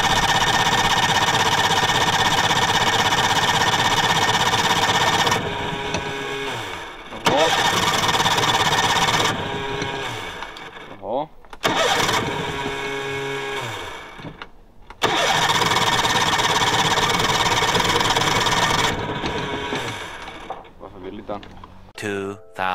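A boat engine starts and warms up, running loud and close in long steady stretches. It stumbles or cuts out several times before it catches again, with voices talking in between.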